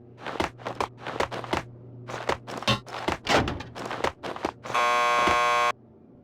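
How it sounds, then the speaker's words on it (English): Door buzzer in the Max Payne 2 video game, one flat electronic buzz lasting about a second near the end, after a run of footsteps and thuds. "Just press the buzzer by the door."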